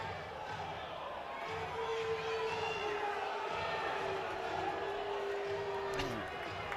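A stadium crowd at a Georgia vs Oklahoma State college baseball game murmurs and stirs in a steady, distant swell, with a commentator talking over it.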